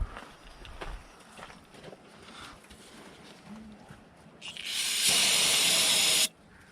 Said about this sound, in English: Gotta put some brake cleaner.